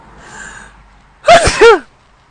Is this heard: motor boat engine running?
no